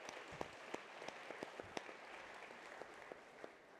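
Luncheon audience applauding, a faint, thin patter of clapping from a seated crowd with a few distinct nearer claps, steady and subdued throughout.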